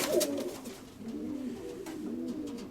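A trained racing pigeon coos in low, rolling phrases, repeating several times close by in a loft.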